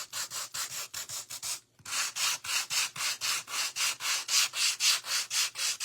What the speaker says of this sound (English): Let's sand it just a little bit.